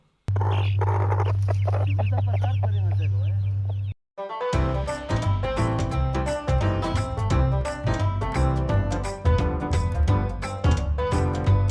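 Chickens cluck and call for a few seconds inside a greenhouse in Oaxaca, Mexico, over a steady low hum, then music abruptly takes over.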